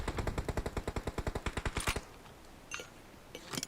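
Automatic gunfire in the mobile battle-royale game PUBG Mobile rattles off in a rapid burst of about twenty shots lasting two seconds, followed by a few scattered single shots later.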